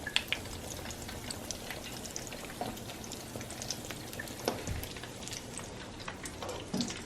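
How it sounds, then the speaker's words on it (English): Potato chop mixture for a Nepali snack simmers in a pan on low heat at home, giving a soft, steady bubbling and sizzling with scattered small pops throughout. "Boiling in low heat."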